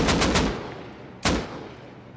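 AK rifle fire in the video game Rust: a quick burst of three or four sharp shots, a pause, then a single further shot, loud and close with no voices.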